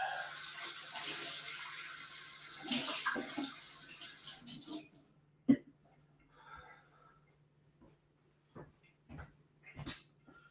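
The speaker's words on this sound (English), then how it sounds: "So I'm just going to rinse this jigger out." Running water rinses a cocktail jigger, a steady close hiss for about five seconds before it stops, followed by a few faint clinks and knocks.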